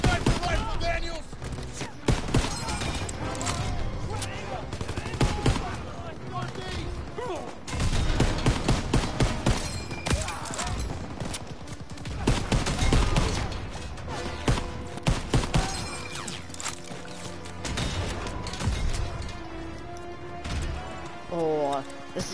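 Dense, continuous gunfire in the Call of Duty WWII video game, with bursts and shots layered over game music and effects, loud and sustained throughout; a voice speaks over the action.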